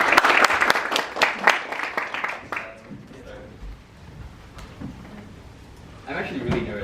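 Applause from an audience welcoming a speaker on stage at a developer talk on AI engineering, loud claps in the first few seconds fading out, with a voice speaking afterward and a brief swell of clapping near the end.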